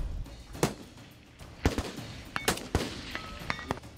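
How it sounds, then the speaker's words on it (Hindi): Several sharp rifle shots crack out irregularly at a distance, some in quick pairs, with quiet gaps between them. "पुतिन ने गोलियां बरसाई।"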